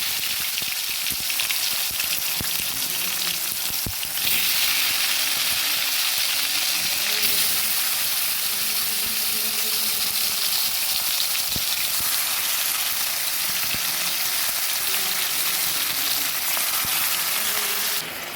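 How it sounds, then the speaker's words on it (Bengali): Thinly sliced tomatoes coated in salt and turmeric fry in hot oil in a pan, giving a dense, steady hiss like rain that carries on throughout. "তেলটা গরম হয়ে গেছে এক এক করে সবগুলো টমেটো এবার দিয়ে দেবো"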